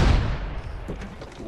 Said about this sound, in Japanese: 気をつけて、グレネードよ